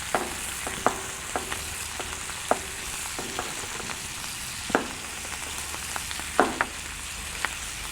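Shrimp sizzling on a Monument Grills Mesa 400 gas grill, a steady close frying hiss broken by sharp taps and clicks of tongs placing the pieces, with no talking.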